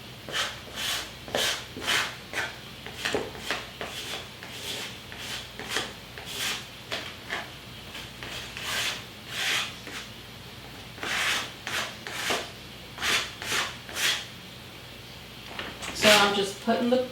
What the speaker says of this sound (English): I am actually putting the spreader on the brick and pulling it, letting the plaster come off